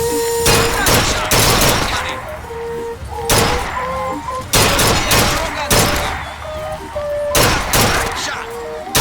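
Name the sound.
gunshots at shooting gallery in video game Bioshock Infinite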